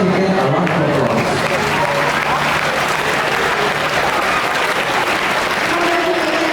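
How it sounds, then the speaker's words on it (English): An audience at a school student leaders' investiture claps loudly for the incoming peer support leaders, a dense close round of applause with faint voices and low tones mixed underneath. "Let's begin a round of applause."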